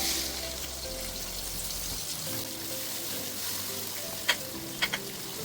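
Onion frying in hot oil with fenugreek powder, a steady close sizzle running throughout with a few sharp utensil clicks near the end.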